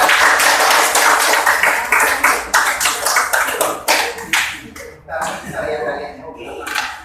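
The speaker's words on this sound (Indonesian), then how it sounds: "Tepuk tangan untuk teman" A class of students claps for a classmate, a loud burst of rapid, uneven hand claps close by that thins out toward the end, with some chuckling and voices mixed in.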